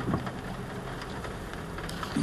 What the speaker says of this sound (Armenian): Ոնց որ թույլացավ անձրևը մի քիչ։